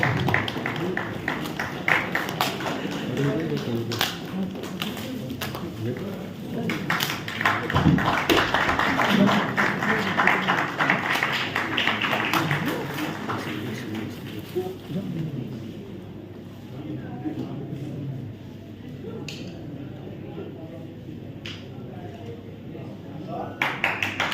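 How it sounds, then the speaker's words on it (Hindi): A medical conference audience in Delhi claps through a long stretch of sustained, dense applause, steady and mid-distance, gradually thinning toward the end, with a voice speaking over it through much of the stretch. "आपकी जोरदार तालियां होनी चाहिए।"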